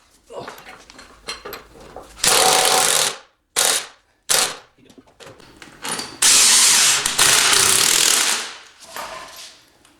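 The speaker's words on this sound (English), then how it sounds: "Find a wrench for the head of the bolt, and the 1/2-inch sockets are going to be the biggest sockets in the back" Loud bursts of rapid metallic clicking from a ratchet socket wrench with a 1/2-inch socket, tightening a nut on a bolt during work on the frame of a 1948 Silver King tractor, with quieter handling noises between.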